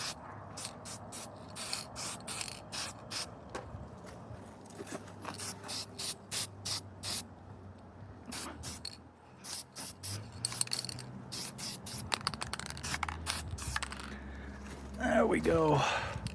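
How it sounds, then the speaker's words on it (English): Cast Blast spray paint hissing from an aerosol can onto car parts near a battery tray, in repeated short bursts and longer sprays, with quiet talk and shop noise in between. "I ran out of black, so we're just gonna hit it with some cast blast, because why not?"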